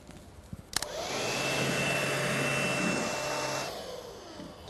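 A cordless vacuum cleaner picks up fine dust on a hard floor, a loud, steady motor whine with a constant airy roar that starts abruptly after a brief clatter and holds for about three seconds before cutting off.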